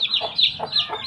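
Newly brought-in chicks peeping close by, three sharp high chirps in quick succession with a faint low murmur underneath.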